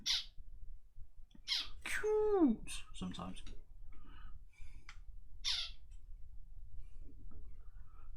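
Two pet birds squawk and chirp in short bursts, with one drawn-out descending call, heard close indoors alongside a man's speech.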